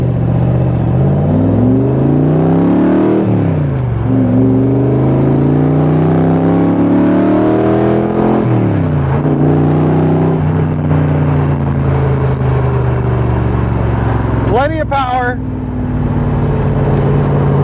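A 1965 Superformance Cobra revs up steadily at half throttle in repeated rising pulls, a loud throaty rumble climbing in pitch before easing and pulling again.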